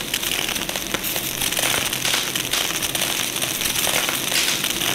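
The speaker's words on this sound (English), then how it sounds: "The entire thing's on fire." A whole station ablaze in Space Station Alpha gives off a constant dense crackle and popping, loud and close, with no voice over it.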